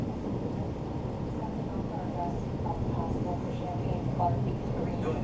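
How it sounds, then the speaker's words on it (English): Heavy rain pours down steadily during an overnight severe thunderstorm with strong gusts of wind and lightning, a dense continuous roar with a low rumble of thunder beneath it. "That is the heavy rain that is coming in. Tons of lightning as well with this."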